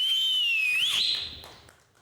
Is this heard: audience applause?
no